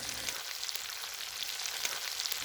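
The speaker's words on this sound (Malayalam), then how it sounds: "നമ്മൾ ഈ ഫ്രൈ ചെയ്യുമ്പോൾ ഒരു കാര്യം ശ്രദ്ധിക്കണം, ഹാഫ് കുക്ക്ഡ് ആയാൽ മതി." Chicken pieces fry in hot oil for a Kerala-style chicken curry, giving a steady, fairly quiet sizzle with faint crackles throughout and no talking.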